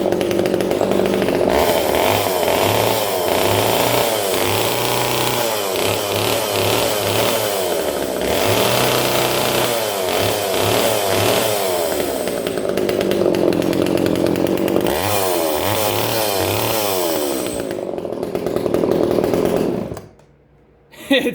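A Stihl 280e chainsaw engine with a freshly cleaned spark arrester runs loud and close, revving up and down in surges for about twenty seconds before cutting out abruptly.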